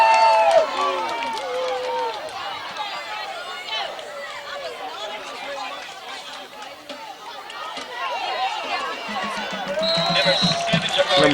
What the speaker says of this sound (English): Home crowd cheering a little loud right now.